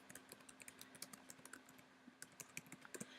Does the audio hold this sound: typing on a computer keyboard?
yes